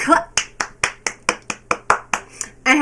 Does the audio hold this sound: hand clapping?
yes